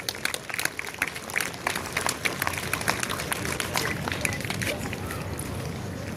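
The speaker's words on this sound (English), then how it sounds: "Let's give them a big round of applause." Crowd applause at a school sports day, a busy scattered patter of many hands clapping outdoors, with voices mixed in.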